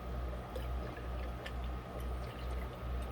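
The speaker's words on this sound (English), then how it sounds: "I'm going to add another 250 milliliters so I know where 3/4 is." Water pours steadily into a brine shrimp hatcher, a continuous close liquid stream with a gentle pulsing rhythm as the vessel fills, heard on its own.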